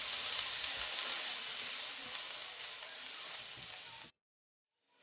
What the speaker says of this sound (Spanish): Y vamos a empezar a freír.